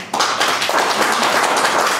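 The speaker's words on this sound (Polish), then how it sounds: "Prosimy powitać po krakowsku oklaskami." Audience at a Kraków history event about the Freedom and Peace movement breaks into loud, sustained applause welcoming a guest, dense clapping from a crowd with no talk over it.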